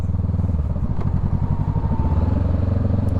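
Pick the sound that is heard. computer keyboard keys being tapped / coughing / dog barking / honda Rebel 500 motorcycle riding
honda Rebel 500 motorcycle riding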